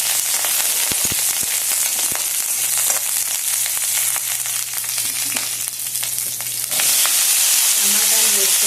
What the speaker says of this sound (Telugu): నూనె వేసుకున్న తర్వాత పచ్చిమిరపకాయలు వేసుకుని